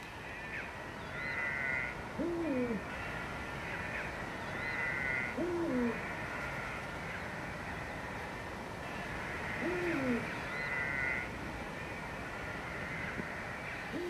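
Vultures near nesting cliffs in the Villuercas call to one another in repeated bursts of hooting, croaking cries, several calls in a row that pause and return, fairly distant over a quiet outdoor background.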